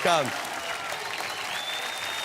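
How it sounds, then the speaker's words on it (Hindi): Loud studio audience applause on a Hindi TV quiz show set, a quick burst of clapping that follows a brief sung or spoken tone and holds at a steady, dense level to the end. "तालियां, तालियां"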